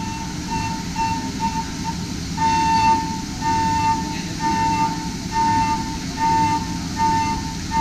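A Matsuura 5-axis CNC machine runs adaptive cuts, producing a loud, steady machining drone with a pulsing, repeating high tone that rises and falls in a regular rhythm, with no talking.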